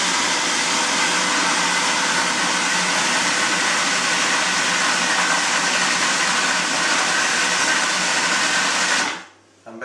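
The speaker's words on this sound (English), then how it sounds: "So once we got those 3 ingredients in your food processor, we can give it a whirl." A food processor whirs at full, steady speed as it blends corn kernels, basil and onion for a cream of corn, a loud continuous roar for about nine seconds before the motor cuts off and spins down.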